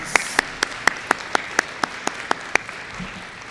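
Sparse, evenly spaced claps, about a dozen crisp hand claps in a steady rhythm, ring out at a school eighth grade promotion ceremony, thin and close with no crowd roar.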